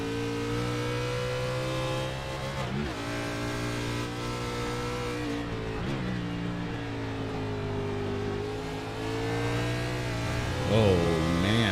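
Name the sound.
onboard racing kart engine at Sonoma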